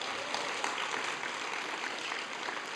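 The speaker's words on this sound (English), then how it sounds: "Let's give him a big round of applause." An audience at a devotional gathering at Bhaktivedanta Manor gives a steady, fairly faint round of applause that continues evenly throughout.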